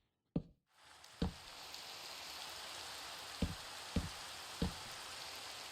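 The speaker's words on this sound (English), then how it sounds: "it's raining now" Rain in the Minecraft survival game comes through as a steady, quiet hiss, with several sharp knocking taps at irregular intervals on top.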